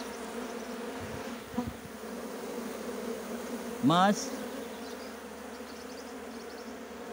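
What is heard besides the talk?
honeybees buzzing in an open hive box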